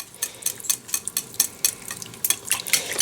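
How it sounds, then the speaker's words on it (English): A whisk beats a chicken and mushroom soup mixture in a pot, making rapid, rhythmic scraping clicks in quick bursts, close and fairly loud, with no voices. "Now, grab your whisk. Whisk that all together so it's not all separated-y."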